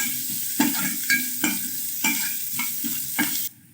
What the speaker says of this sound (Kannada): ಸ್ವಲ್ಪ ಗ್ಯಾಸ್ ಹೈ ಫ್ಲೇಮಿಗೆ ಮಾಡಿ ಈರುಳ್ಳಿಯನ್ನು ಕೆಂಪಾಗುವವರೆಗೆ ಬಾಡಿಸಿಕೊಳ್ಳಬೇಕು